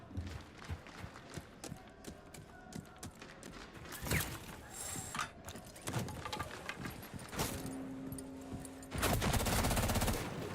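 Rifle fire crackles in a Rainbow Six Siege grand final match, scattered shots and quick bursts amid footsteps and game noise, faint and mixed with crowd and caster sounds, ending in a louder wash.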